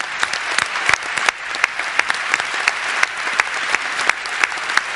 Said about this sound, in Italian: Questo è l'applauso delle muse a Franky.